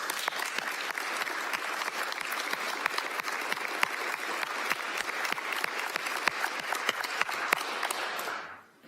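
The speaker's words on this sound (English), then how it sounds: "I think this board owes you another big round of applause." A city utilities board meeting audience breaks into a big round of applause, many hands clapping in a dense, steady patter for several seconds before it abruptly dies away at the end.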